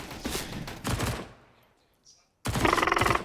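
Automatic rifle fire crackles in short spray bursts during a Counter-Strike: Global Offensive match on Dust2, two rapid rattling exchanges separated by a near-silent gap, loud and close.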